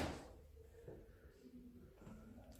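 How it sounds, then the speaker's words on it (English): A wooden bench creaks under a seated person inside Oxford Castle and Prison, giving low, drawn-out groaning tones at close range that rise and fall over a few seconds against a quiet room, with no talking. "That's this bench creaking that I'm sitting on."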